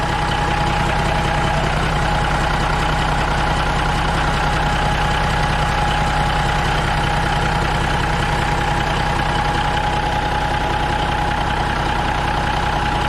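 A Caterpillar 3406B diesel truck engine idling steadily at close range, a continuous low rumble with a constant droning hum, unbroken for the whole stretch.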